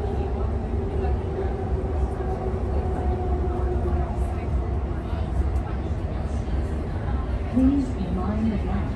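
A Sydney Trains service running between Edgecliff and Kings Cross stations, with a steady, loud low rumble and rail hum throughout and a faint tonal whine, while a voice is heard faintly over it.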